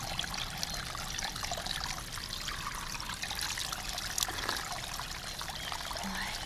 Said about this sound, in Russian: Хорошо мыться холодной родниковой водой.